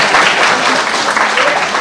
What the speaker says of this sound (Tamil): கைதட்டுங்க சார்